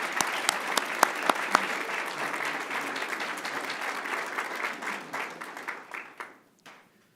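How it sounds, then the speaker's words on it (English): Warm applause from an audience at a school board meeting for a high school senior receiving a President's Award, a few sharp individual claps on top, gradually thinning and fading out near the end. "Let's give him a big round of applause."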